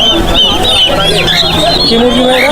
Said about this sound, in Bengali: কেদারনাথ মুরগি রক্ত মাংস সবই কালো